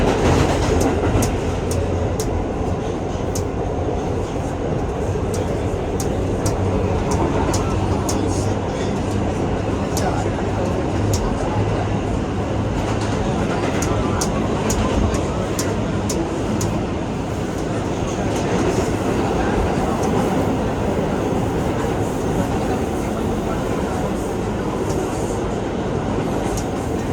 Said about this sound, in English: I noticed the train is going a little slow